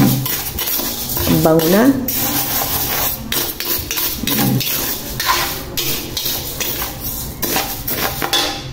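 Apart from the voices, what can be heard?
stirring roasting rice for rice coffee in a pan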